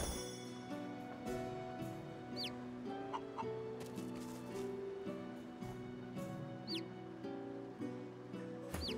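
Chickens clucking in the video game Divinity: Original Sin 2 over a steady synthetic musical backdrop, with occasional short chirps and bleeps, all fairly soft.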